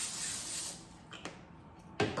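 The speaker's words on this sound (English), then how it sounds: "I forgot to spray my pan with some olive oil" Olive oil sprayed from a can onto a pan for a spaghetti squash casserole: one near hiss that fades, then faint knocks and a sharp short spray burst near the end.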